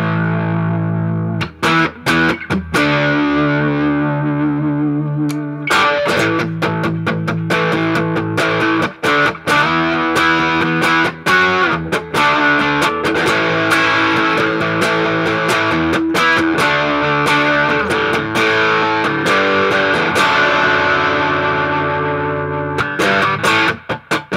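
Electric guitar through a high-gain distortion pedal voiced for a Marshall-style crunch, loud and thick with chugging palm-muted riffs, sustained chords and brief stops between phrases; played alone with no talking.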